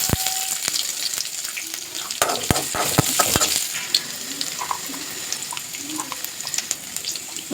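Oil sizzles steadily with a crackling hiss as sesame seeds, green chilli and chopped garlic fry, sharp clicks and clatters of a utensil at the start, then a softer continuous fry.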